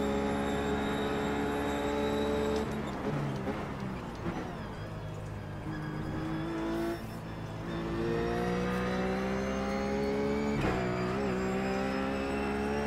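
A Ruf race car running laps at Road Atlanta in the iRacing sim, its engine droning steadily with rising and falling revs through gear changes, loud and close throughout with brief dips at shifts.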